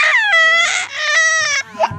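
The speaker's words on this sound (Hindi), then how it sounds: "तभी किसान के घर के अंदर से बच्चे की रोने की आवाज आती है" A child cries loudly and close up, wailing in long tonal bursts with short breaks and sobbing catches between them, heard alone as a sound effect in a Hindi moral story.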